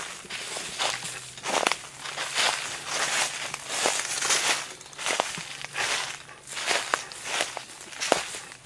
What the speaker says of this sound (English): We're walking into the trees right here.